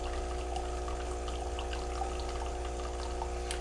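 A Lavazza Classy Plus espresso machine pumps distilled water through, making a steady, droning electric hum with an even watery rush and faint trickling, constant throughout.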